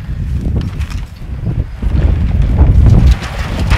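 Strong wind buffeting a microphone outdoors, a loud continuous low roar and rumble that swells louder midway and stays heavy, with no voices.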